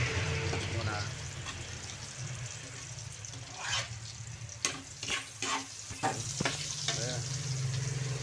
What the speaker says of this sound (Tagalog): Yung gisa tayo ng bawang muna.